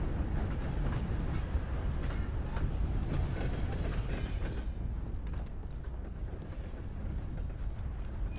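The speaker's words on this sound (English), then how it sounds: "This is my train." A train in Red Dead Redemption 2 rumbles continuously, a dense, steady roar of wheels and machinery with a faint hiss on top, holding at an even level throughout with no talk.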